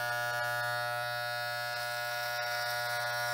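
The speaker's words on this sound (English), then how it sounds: "I'm going to be just working the clippers just straight on up right over here" Electric hair clippers run steadily close by during a men's haircut at a barbershop, pushed straight up the side of the head, giving a continuous even buzz with no talking.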